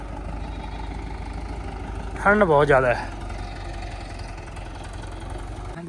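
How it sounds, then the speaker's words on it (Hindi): A tractor engine idles with a steady low rumble on a village farm, running continuously beneath a short burst of nearby speech. "ये ट्रैक्टर तो अपना ही है, इस पर चल रहा है काम।"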